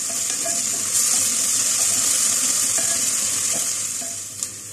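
Onions frying in a pan with garlic ginger paste stirred in for Punjabi sarson ka saag, a steady loud sizzle with scraping stir strokes throughout and a small knock near the end, no talk.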